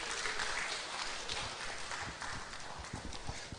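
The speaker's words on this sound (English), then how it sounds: "Let's welcome him with a big round of applause." Audience applause fills a book launch hall, dense steady clapping from a large crowd that holds loud throughout and thins slightly toward the end.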